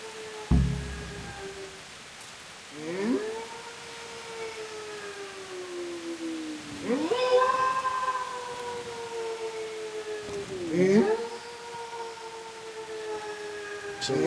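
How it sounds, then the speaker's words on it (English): In the video game Kingdom Come: Deliverance, a dog howls in long, wavering, siren-like wails, three or four drawn-out cries that rise and fall several seconds apart over a quiet ambient background. "So it's been this dog making that weird sound."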